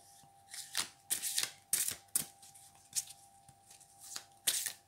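Oracle cards shuffled by hand up close, with quick papery riffles and flicks in uneven bursts and pauses; no voice is heard.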